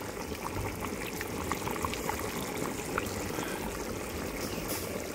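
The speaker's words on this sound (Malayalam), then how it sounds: "നല്ല നാടൻ ബീഫ് കറിയാണ് ഇവിടെ തിളക്കുന്നത്." Homestyle beef curry bubbling away in a pot over a wood-fired stove, giving a steady, close simmer of popping and gurgling with faint crackle and no talking.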